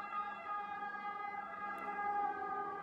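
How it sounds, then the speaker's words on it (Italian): A passing ambulance's siren sounds continuously at moderate loudness, its tone swelling slightly as it nears, with no voices heard. "scusate l'ambulanza"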